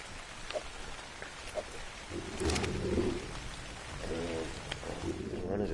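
Rain falls in the video game Ark as a continuous broadband hiss with scattered drop patter, steady throughout, with a few low rumbling swells.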